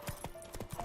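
Horse hooves clip-clop in a quick, even rhythm in The Witcher 3, close and moderately loud, about six light strikes in under a second.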